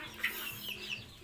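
Chickens on a small poultry farm cluck softly in a brief burst, a few short calls close by with low farmyard background and no talk.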